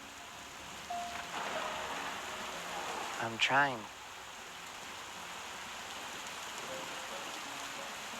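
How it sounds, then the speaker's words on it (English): Heavy rain pours down as a constant soft hiss of falling water, with a voice briefly speaking over it partway through. "It's still raining really hard."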